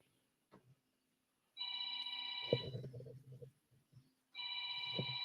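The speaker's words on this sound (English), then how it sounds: "Oh, I don't know whose phone that is." A phone rings loudly during a sports broadcast, two bursts of an electronic ringtone separated by a pause, with a person talking briefly beneath the first ring.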